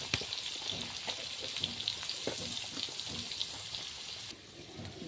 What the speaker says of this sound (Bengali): একটুখানি হলুদ আর একটু লবণ দিয়ে আমি আলুগুলো ভেজে নেব।